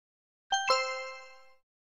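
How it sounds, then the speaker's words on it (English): A confirmation chime from an encrypted voice device running on a Raspberry Pi: two quick, bright bell-like tones struck in close succession, then ringing out together for about a second. The chime is clear and sounds alone. "You will hear a text-to-speech notification and a confirmation chime."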